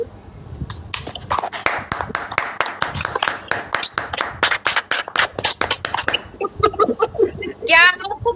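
Participants in an online welcome meeting clap, producing a burst of sharp, uneven hand claps at varied levels that runs for several seconds, then thins out as voices come in near the end.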